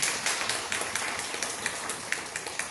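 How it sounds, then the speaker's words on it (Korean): A church congregation at a Sunday worship service clapping for a newly married couple, a moderately loud patter of many hands with sharper individual claps standing out, steady throughout without speech. "여러분 박수 한번 해주시죠."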